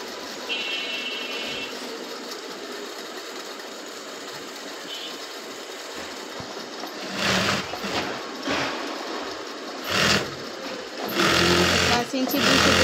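A sewing machine stitches the sleeve cuff of a kameez in short whirring runs near the end, following a stretch of quiet hum while a woman explains the work.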